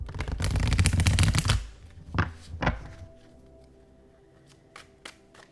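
Oracle cards are riffled and shuffled in a quick, dense flurry of crisp flicks, then a few separate taps and soft thunks follow in a quiet room.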